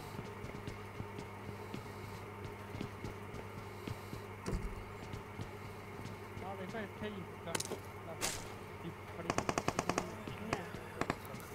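Gunfire in the mobile battle game PUBG Mobile: scattered shots through a steady background hum, then a rapid burst of sharp automatic fire near the end, with people talking over it.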